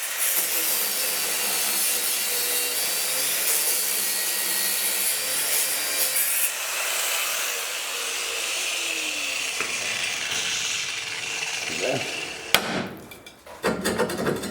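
A harsh, continuous grinding roar runs for several seconds on a seized bolt at a 1999 Ford Explorer's rear spring hanger, then cuts out, followed by a few sharp clanks and knocks.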